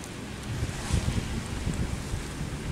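Wind and choppy waves surround a fishing boat at sea, a loud rushing roar with irregular low thumps of water and gusts buffeting the microphone throughout.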